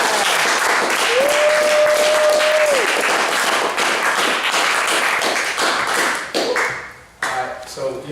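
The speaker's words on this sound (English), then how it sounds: "Hey, clap it up for y'all." Audience applause at a live talk show, broad sustained clapping with a brief tonal ping early on, fading and thinning toward the end.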